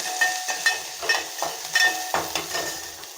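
Garlic and curry leaves sizzle in a little oil in a pan for a bitter gourd curry, a steady soft frying hiss broken by regular stirring scrapes and clinks of a spoon.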